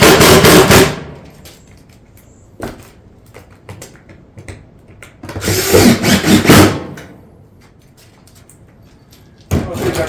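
A power driver sinks fasteners through a roof panel into caulking on a barrel vault tile roof around a pipe vent. Three loud, close whirring bursts are separated by quieter gaps holding small knocks and clatter.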